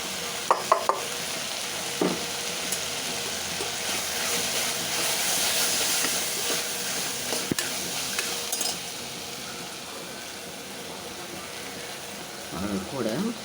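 Tomato masala with turmeric, chilli powder and garam masala stirred in a pan, a soft continuous hiss and sizzle with scattered scraping clicks of a spoon, close and moderate, a few faint knocks near the end.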